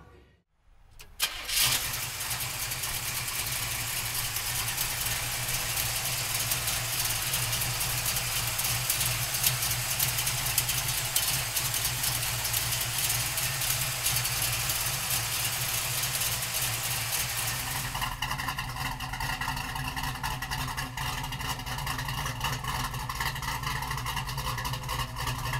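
A 1970 Chevrolet Nova engine starts up and settles into a loud, steady idle with a deep rumble, the note shifting slightly near the end, heard close and alone without talk.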